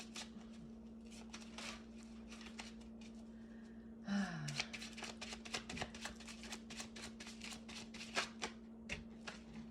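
Cards riffle and shuffle in quick crisp bursts close by, with soft breaths and a steady low hum underneath.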